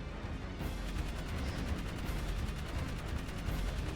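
Turret gunfire in the video game Jak 3, a steady stream of rapid, close, loud shots with booming impacts that hammers on without pause.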